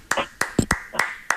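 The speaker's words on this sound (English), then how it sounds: "Let's clap it up for playoff Jimmy or playing Jimmy." Scattered clapping for a basketball player during a Warriors play-in win over the Grizzlies, in five or six sharp, separate claps at an uneven pace, with nothing else sounding.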